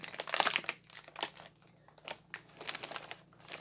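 Plastic crinkling and crackling as a resealable Chips Ahoy cookie container is handled, in short irregular bursts at close range with no talking.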